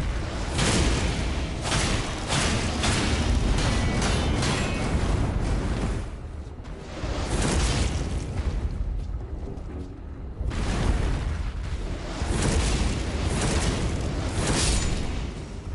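A Warrior Jar in Elden Ring: Shadow of the Erdtree blows up in a run of heavy, rumbling booms, loud and continuous, with several swelling blasts and no talk over them.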